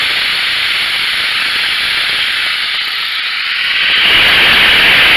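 Steady loud sizzling hiss of scrap food frying in a pan for breakfast, hoped to caramelize, continuous and close, swelling slightly brighter near the end with no talking.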